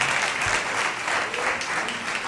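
An audience applauds a poet at a live poetry event, a dense, steady wash of many hands clapping at close range, sustained throughout without a break.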